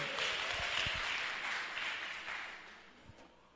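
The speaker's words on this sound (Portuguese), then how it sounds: "Vamos aplaudir o Senhor, queridos?" A church congregation claps together in sustained applause at a cell and discipleship seminar, a dense steady patter that tapers off over a few seconds with a few louder claps standing out.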